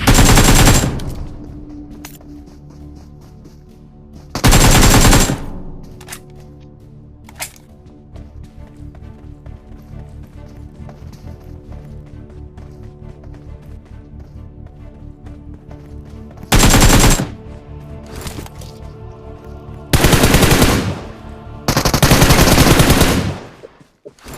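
Bursts of automatic M4 rifle fire in a shooting video game crack out loud and close, several sustained volleys broken by short pauses over a steady droning game background.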